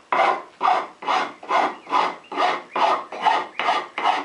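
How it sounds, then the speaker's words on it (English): A coarse half-round rasp files a wooden stool seat in nine even, rhythmic strokes about half a second apart, each a close, gritty scrape with no voices. "I would take a regular half-round coarse rasp,"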